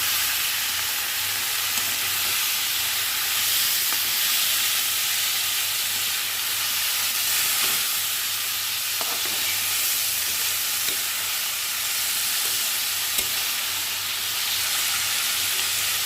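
Snake gourd hitting a hot pan of oil for a fried shrimp dish, a steady close sizzling and frying hiss lasting throughout with faint stirring clicks and scrapes, no talking.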